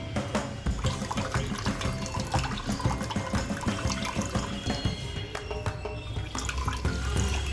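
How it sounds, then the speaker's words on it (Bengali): Water squeezed out of fresh chhena wrapped in a clean cotton cloth or tissue, dripping and splashing steadily into a sink or bowl, fairly loud and continuous with no talking. "এইভাবে চেপে জলটাকে বার করে নেব।"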